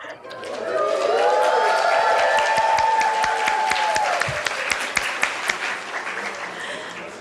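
Audience at Birch Aquarium applauding and cheering as a live link with astronauts on the International Space Station opens, with sustained loud clapping from a large crowd and a few sharper claps toward the end.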